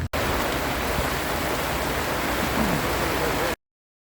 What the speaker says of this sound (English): the rain came down even heavier and it turned the service park and the forest roads into a quagmire